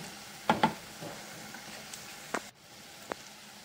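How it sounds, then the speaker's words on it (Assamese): A quiet, steady sizzle of ground sesame frying in a pan with tomatoes, punctuated by a few sharp clicks and scraping taps of a utensil stirring. "তিলখিনি এতিয়া ভালদৰে অলপমান সময় ভাজি ল'ম"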